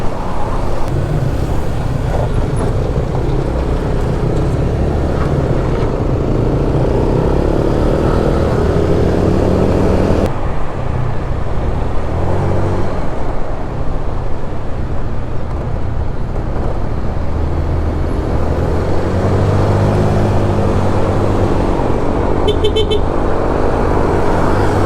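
Road traffic surrounds a Honda Click scooter on Sales Road in Tanza, Cavite, a steady engine drone mixed with passing vehicles and rumbling roadway noise throughout.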